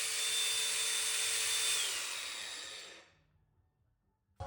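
A power drill or screwdriver whirs steadily on screws set in metal stud framing, a loud continuous whine lasting about three seconds before cutting off, followed by a brief click.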